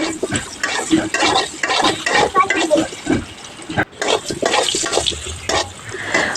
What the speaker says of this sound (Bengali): সামান্য পরিমাণে হলুদ এবং লবণ দিয়ে আমি আলুগুলো ভেজে নিব